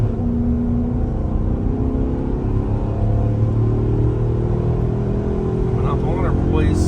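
A gasoline truck accelerating hard in a drag race against a diesel, its engine droning steadily with a rising, spooling rumble that stays loud and continuous throughout, with rising whine near the end.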